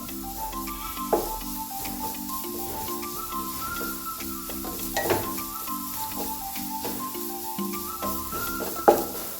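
Grated carrot frying in ghee for carrot and sabudana payasam, a soft, continuous sizzle with occasional stirring scrapes, heard beneath steady background music.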